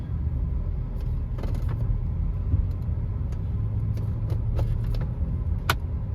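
A Chevrolet Trailblazer idles with a steady low engine rumble as it is shifted into drive, punctuated by a few faint clicks and clunks from the shifter, close and continuous with no talking.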